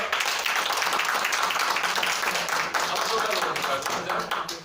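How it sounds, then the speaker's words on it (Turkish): Audience at a company gathering clapping for two new starters called to the stage, steady dense clapping throughout, with voices mixed in. "herkes yeni starterlarımızın Osman Bey ve Hatice Hanım'ı çok güçlü bir alkışlarla"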